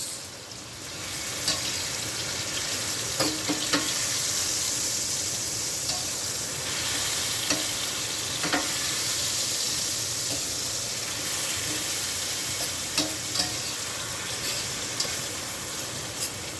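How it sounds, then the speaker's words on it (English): Ackee and tinned mackerel with seasoning sizzle steadily in a pan while being stirred slowly. Soft scraping strokes and light taps recur every second or two over the hiss. "I don't want my ackee to crush, so I take my time and mix."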